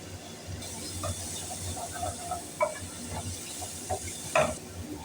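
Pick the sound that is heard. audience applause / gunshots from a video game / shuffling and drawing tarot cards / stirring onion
stirring onion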